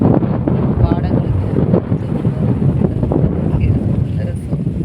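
Strong wind blows across open paddy fields beside backwater-like water, buffeting the microphone in a loud, continuous roar that surges and dips.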